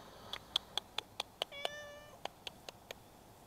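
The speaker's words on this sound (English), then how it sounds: "my cat's been following me around" A house cat gives one brief, faint meow amid a series of quiet, regular clicking ticks in a still room.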